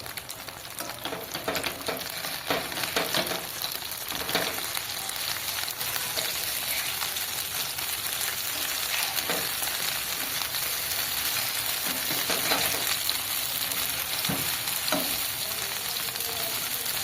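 Prawn paturi wrapped in gourd leaves fries in a pan with a steady, dense sizzle and crackle that lasts throughout, with occasional soft stirring and no talking.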